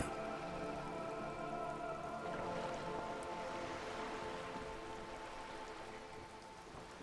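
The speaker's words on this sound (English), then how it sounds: "All around you, rain keeps falling down. On the wooden boards she's standing on, and on the water around you." Steady rain falls on wooden boards and the surrounding water in Disco Elysium, a continuous close hiss of drops with a few soft tones underneath, no voices.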